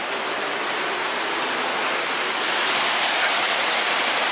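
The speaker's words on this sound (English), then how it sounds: "Now we have come up to Mosquito Falls." Mosquito Falls at Pictured Rocks, Michigan, in autumn: a steady, full rush of falling water that swells slightly louder partway through, with no voices.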